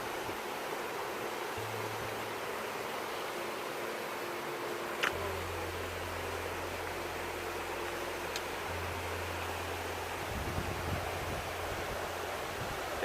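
Milk Creek flows steadily along a mountain trail in Oregon, a constant broadband rush of water close by, with faint low rumbles beneath it and no voices.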